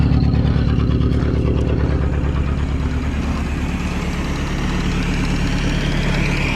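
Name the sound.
Morris 8 engine running with a misfire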